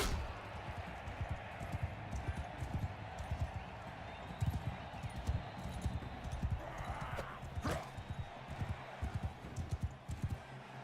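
A horse's hooves clip-clop in a video game as a steady run of many close, quick footfalls goes on throughout, with a faint whinny and some background game noise.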